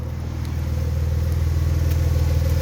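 A Porsche 911 engine idles steadily, a deep, even rumble with a fine pulsing texture that grows slightly louder and holds at a constant level.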